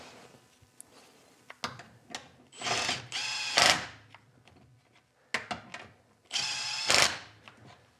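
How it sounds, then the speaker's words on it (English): A Milwaukee M12 Fuel impact tool spins a bolt tight on a car in two close, loud bursts, each a whirring run ending in rapid hammering rattles, separated by quieter clicks and handling. "I do like the new impacts in the fact that they will tighten quickly right until they hit the first little bit of resistance and then shut off"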